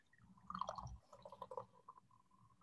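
Coffee is poured into a cup, a soft trickling and dripping splash that is faint and close, running unevenly for a couple of seconds without talk.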